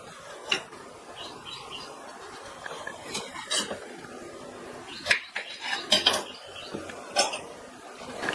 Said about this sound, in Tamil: இதனுடைய மேல் தோலை லைட்டாக சீவிட்டு கட் பண்ணிக்கலாம்